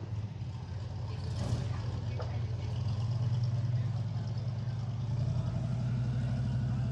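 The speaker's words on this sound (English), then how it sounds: "Sounds like a V8 to me." A deep, steady V8 engine on an airboat idles nearby with a low rumbling throb, joined briefly by a faint hiss partway through.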